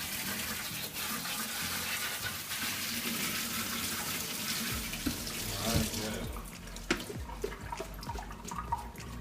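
Tap water runs steadily into a kitchen sink while ginger and vegetables are washed for chicken bruschetta, a continuous splashing gush that shifts and breaks up partway through as items move under the stream.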